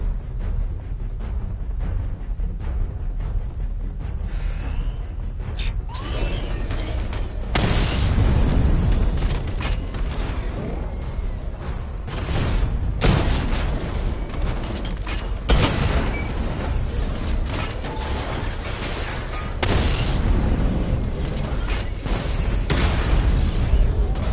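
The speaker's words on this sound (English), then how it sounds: "Charge up missile barrage to level 2 and destroy 4 active targets to complete diagnostic test" Missile barrage explosions in Batman: Arkham Knight: a series of heavy booms and bursts, some sharp and some rolling, over a loud continuous rumble, with no talk.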